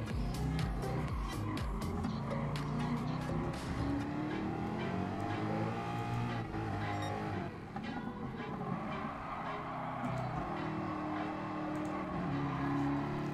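Race car engine in Gran Turismo Sport revving hard in fourth gear, a loud continuous roar with rising and falling pitch sweeps as it accelerates, heard alone with no talk.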